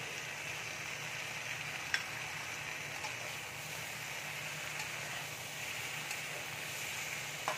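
Mixed vegetables with crushed ginger fry in a pan, a steady close sizzle that runs the whole time with a couple of faint clinks.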